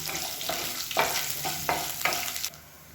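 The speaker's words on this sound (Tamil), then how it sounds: "இதையும் சேர்த்து நல்லா வதக்கிக்கலாம்" Garlic and ginger sauté in an oily pan for a chutney. Four or five rhythmic scraping stirs cut through a moderate sizzle, which drops away abruptly near the end.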